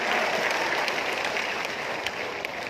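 Thunderous applause from a political rally crowd at a Barisan Nasional Sabah campaign launch, honouring three vice presidents; dense, steady clapping fills the hall throughout with no voices over it.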